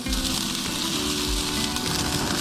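Chicken wings crackle and sizzle on a hot outdoor grill, a dense, continuous hiss with close popping and spitting fat, loud and steady throughout with no talking.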